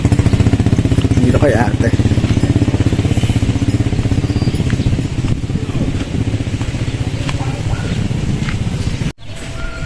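A motorcycle engine runs close by with a rapid, steady, loud chugging beat that keeps going through nearly the whole stretch before cutting off near the end, while people talk over it.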